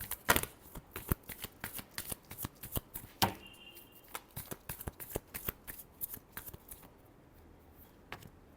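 Tarot cards being shuffled by hand, a quiet, close series of sharp riffling snaps and soft slaps in an irregular rhythm, alone without talk.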